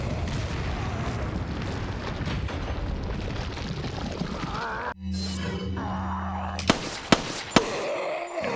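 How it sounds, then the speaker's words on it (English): Grenades burst in a video game: a dense, continuous roar of blasts rumbles for about five seconds, then a brief hush with a low hum gives way to three sharp, loud booms near the end. "So we're gonna throw nades at these guys to kill them."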